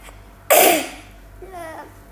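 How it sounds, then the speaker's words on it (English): A single sharp, loud sneeze bursts out close to the microphone, followed a moment later by a short, quieter vocal sound like a brief laugh or murmur. "Why was my sneeze like that?"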